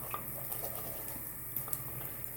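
Water from a tap runs steadily into a sink while a silicone makeup brush is rinsed of soap, a soft continuous splashing hiss with a few brief spatters, close and fairly quiet, no voices.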